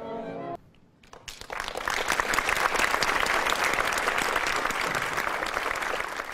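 An audience at a university symphony orchestra concert bursts into loud, sustained applause after a brief hush, many hands clapping densely and evenly to the end.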